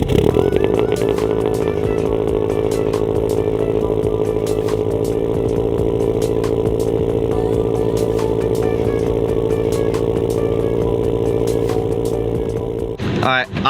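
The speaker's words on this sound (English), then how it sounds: "let's get a cold start set up on the BRZ right now" A turbocharged Subaru BRZ idles after a cold start, warming up with a steady, loud, slightly rough engine drone that holds for the whole stretch, close by, then briefly rises at the very end.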